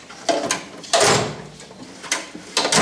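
Metal drawer of a South Bend lathe sliding open and shut several times, close by. Each movement is a loud, rough rumbling scrape, with brief gaps between strokes.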